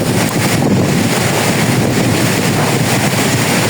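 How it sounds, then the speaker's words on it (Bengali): Strong storm wind with no rain roars across a rural Bangladeshi village, a loud, constant rushing that buffets the microphone without pause from start to finish. "এরকম ঝড় তো আগে একবারও দেখিনি না, এরকম বাতাস"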